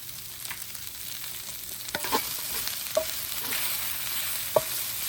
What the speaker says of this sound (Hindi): दो 3 मिनट कुक करेंगे ताकि लहसुन का कच्चापन खत्म हो जाए